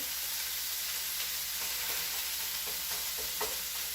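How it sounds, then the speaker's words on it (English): Onions cook in a deep pot with a soft, even sizzle and crackle, a quiet steady frying hiss with a few faint stirring scrapes and no talk. "the onions will cook more evenly because you can spread them out more"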